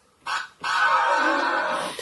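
A short sung 'ahh' vocal sample, a quick burst then a sustained held note, clear and close.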